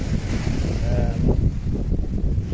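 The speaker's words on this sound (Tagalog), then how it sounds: "Kung napansin nyo, medyo malakas ang alon" Strong ocean waves and gusting wind roar continuously at an island shore, a dense rushing wash with buffeting wind noise on the microphone throughout.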